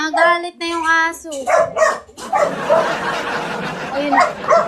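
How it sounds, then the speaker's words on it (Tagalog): A dog barks angrily, sharply several times in quick bursts, then growls and whines while a person talks over it nearby. "Nagalit na yung aso."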